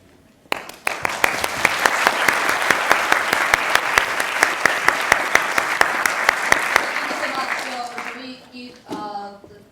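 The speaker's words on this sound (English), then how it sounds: "let's end with a round of applause for you, your questions, your secrets, and for OFA" At a university lecture in an electrical engineering department, the audience breaks into loud, sharp applause that lasts about seven seconds, then fades as a voice begins speaking.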